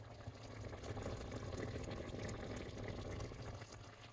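Chicken with preserved lemon and bay leaves simmers covered on low heat, a soft, steady bubbling and sizzling hiss that stays even and quiet throughout, with no voices.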